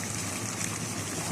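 Boiled water is poured onto browned, frying meat in a pan, a brief, loud, rushing hiss and splash heard close up.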